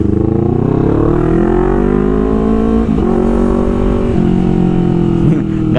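A Honda CBR250RR motorcycle being ridden, its engine droning loud and steady with rising and falling harmonic tones as it pulls along the road, continuous throughout with wind rush and no pauses.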